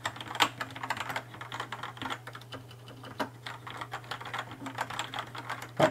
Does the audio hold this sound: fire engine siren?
no